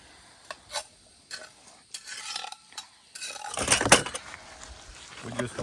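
A large sweet onion cooks in a Dutch oven outdoors beside a creek, with irregular clinks and scrapes of a utensil against the pot and a brief burst of sizzling, close and moderately loud.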